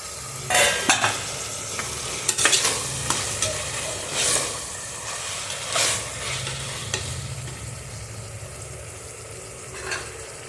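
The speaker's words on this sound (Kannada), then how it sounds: "ನೋಡಿ, ಫ್ರೈ ಆಗ್ತಾ ಇದೆ." Paste and dried fenugreek leaves (kasuri methi) frying in a pan for kushka rice, a steady low sizzle broken by repeated scraping stirs of a spoon against the pan, close and fairly quiet, with no voices.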